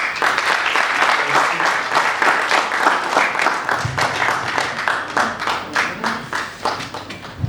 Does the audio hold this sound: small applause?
yes